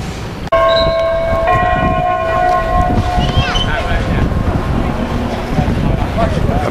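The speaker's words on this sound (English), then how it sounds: "That must be the bell tower I've been hearing." Bell tower ringing on the Shanghai Bund, a single struck tone that lingers with clear overtones, heard over loud wind and busy waterfront noise, with voices present.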